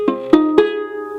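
An all-plastic Melody Maker banjolele, neck, top and skin all plastic, strums three quick chords that ring on with a muddy, nasal tone, close and fairly loud with no talk.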